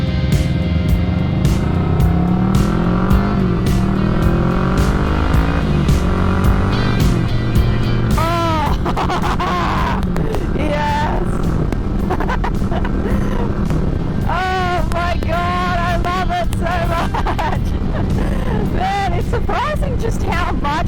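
Unrestricted Kawasaki Vulcan 650 motorcycle on a ride, loud close engine revving up through the gears, then rising and falling blips while downshifting, with a rider talking over the engine.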